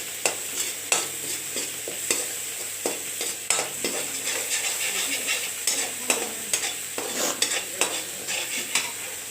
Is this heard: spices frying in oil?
yes